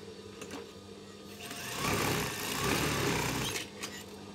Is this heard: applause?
no